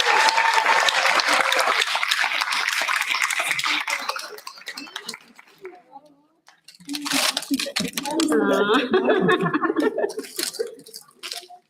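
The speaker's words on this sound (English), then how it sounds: "Another round of applause for Mrs. Kilgore." Applause at a board meeting, a dense round of clapping in a room that fades out midway, then a second burst rises again with voices mixed in.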